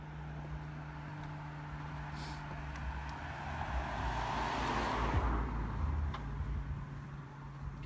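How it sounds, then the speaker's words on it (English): A car's engine starts and idles steadily while the vehicle sits raised on stands, a low constant hum with a louder swell partway through, heard indoors with no talking. "see if she can figure out how to turn the car on without knocking it off the stands"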